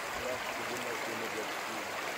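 A mountain stream on a bike tour near the Plansee flows with a broad, steady rush of water, close by and continuous, with brief muffled speech mixed in.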